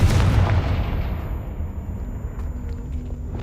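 A Confringo fire blast spell bursts with a loud, booming explosion in Hogwarts Legacy, then its rumbling roar slowly decays over a few seconds, nearby and with no talk.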